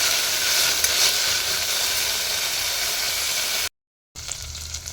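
Ginger paste sizzles and fries in hot oil for coconut rice, a steady close hiss with no talk; it cuts out briefly near the end, then resumes.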